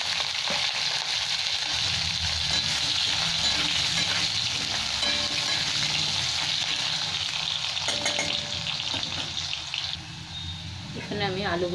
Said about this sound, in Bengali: এখানে আমি আলুগুলো ভেজে উঠিয়ে নিচ্ছি